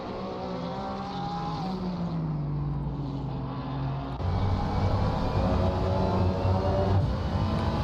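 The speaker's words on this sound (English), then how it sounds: "that Porsche got a great run here for the straight" Porsche and Ferrari race cars on a straight in a racing video game, their engines a loud sustained whine with shifting pitch that drops, then rises again as a second car draws level.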